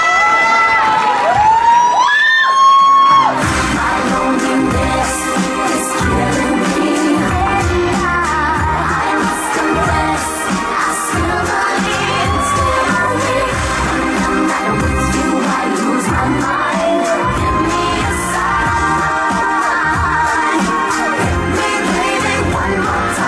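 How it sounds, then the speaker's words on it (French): A large audience cheers and applauds for Britney Spears, a loud, dense roar of cheers and clapping that holds steady for over twenty seconds after a brief quieter opening. "on applaudit bien fort."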